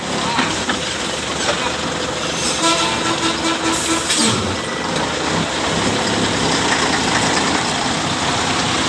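A truck reversing slowly out of a tight spot, its engine idling steadily and loud throughout, with a short horn-like toot midway and people calling directions over the rumble.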